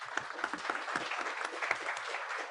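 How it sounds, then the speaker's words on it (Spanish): Audience applause at a forum panel session, a short burst of scattered clapping from a modest crowd, fairly close and steady. "Los aplausos"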